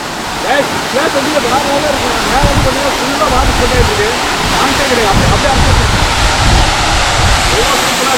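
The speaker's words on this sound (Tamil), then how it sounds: "வாட்டர் வந்து சூப்பராக வந்துட்டுருக்கு" The Devkund waterfall in Raigad, Maharashtra, gives a steady, loud, broad rushing roar throughout, with faint voices carrying underneath.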